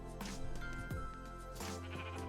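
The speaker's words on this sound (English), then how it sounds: "I think that's a sheep." A sheep in a Minecraft modpack game gives a couple of wavering, nasal bleats at moderate volume over a soft, steady game background.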